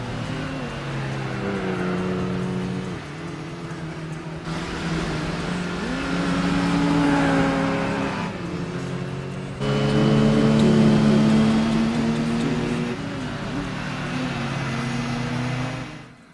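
Mitsubishi Mirage compact car engine racing in Gran Turismo 4, a loud droning whine that climbs through rising revs, drops at each gear shift and climbs again, sustained and close throughout.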